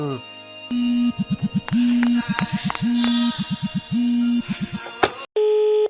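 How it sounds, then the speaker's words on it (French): A mobile phone rings with a repeating electronic melody of short pulsed tones and sustained notes, loud and close, cut off abruptly near the end by a brief steady tone. "Ah, c'est mon téléphone"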